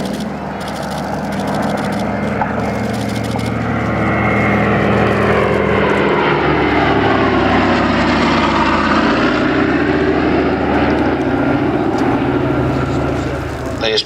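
A British Antarctic Survey propeller aeroplane, fitted with skis on its undercarriage, drones past at an airshow, its engine tone swelling and sliding in pitch as it passes, with commentary spoken over it.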